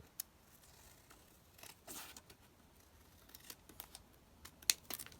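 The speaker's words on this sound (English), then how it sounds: "we're just going to cut here straight across that pocket" Scissors snip straight across a paper envelope pocket from junk mail, a few quiet, sparse crisp cuts and rustles spread out with near silence between them.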